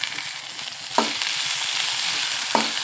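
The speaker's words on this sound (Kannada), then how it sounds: "ಈ ಟೊಮೆಟೊ ಹಣ್ಣು ಸ್ವಲ್ಪ ಹಿಂಗೆ ಫ್ರೈ ಮಾಡಿಕೊಂಡು" Tomatoes with beans and carrots fry in oil in a pan, a dense, continuous close sizzle broken by two sharp stir scrapes, no voices.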